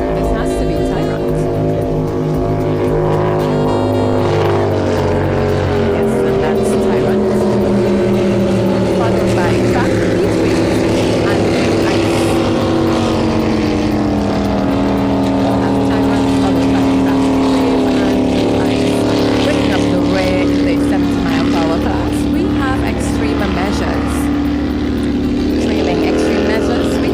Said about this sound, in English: we can hear the engines rumbling